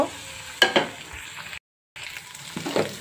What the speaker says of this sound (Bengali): এখন এখানে ডিমটা দিয়ে ভালোভাবে ঘুটে নেব